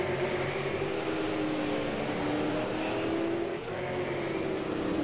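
Race cars circle the Las Vegas Bullring, a steady loud engine roar that holds without a break as the pack runs mid-race, with a slight dip near the end and no voices over it.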